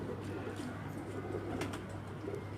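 Pigeons coo softly on a rooftop, a faint, steady low murmur over a constant background hum.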